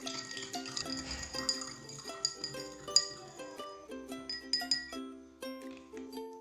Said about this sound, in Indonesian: Kita aduk hingga tercampur rata.